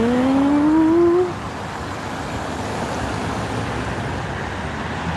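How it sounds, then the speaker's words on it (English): Electric buses move through city street traffic with a loud rising electric whine that fades after a second or so, followed by a steady roar of passing road traffic. "all these buses, they're all electric now, so they make a really weird"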